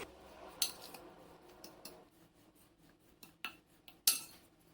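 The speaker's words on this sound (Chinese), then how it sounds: "切好输入碗中，以山药泥搅拌混合均匀。" A spoon scrapes and clinks against a bowl while chopped dried cranberries are stirred into mashed yam, with several sharp clinks standing out over a quiet, soft scraping background.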